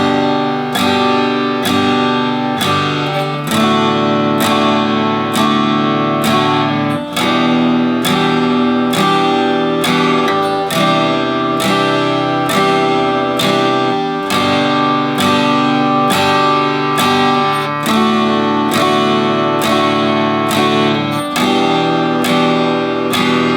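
Acoustic guitar strumming the bridge of a song: steady, loud rhythmic strums with a chord progression that shifts every few beats, played solo with no voice.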